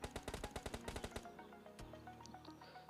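M4 rifle in PUBG Lite: a rapid burst of about a dozen sharp, evenly spaced shots, quick and clipped, that stops abruptly and leaves faint game ambience behind.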